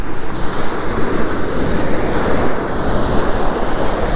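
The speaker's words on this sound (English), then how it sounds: "Waves are really big though." Big ocean waves breaking during surf fishing for striped bass, a loud, continuous roar of surf mixed with gusting wind buffeting the microphone, no talking.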